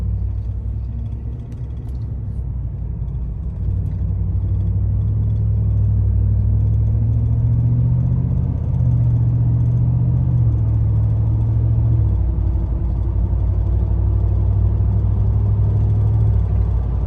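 A 2021 Chevrolet Silverado with the 6.2 engine and 10-speed transmission cruises under light throttle below 2,000 RPM, a steady low engine and road rumble filling the cabin with no talking.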